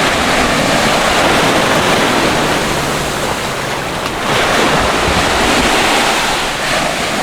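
Rough sea surf breaks steadily along a Thai island beach, a loud, continuous wash of waves with gusty wind buffeting the microphone and no voices.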